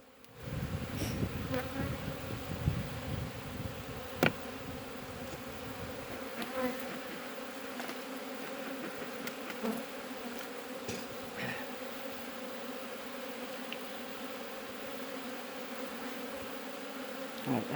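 Honey bees buzzing around an open hive during a queen search, a dense continuous hum of many insects close by, with a few louder individual passes and occasional handling knocks, no talking.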